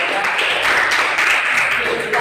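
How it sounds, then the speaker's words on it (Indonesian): A classroom audience claps for a student group's presentation, steady loud applause with many hands filling the whole moment. "tepuk tangan lagi"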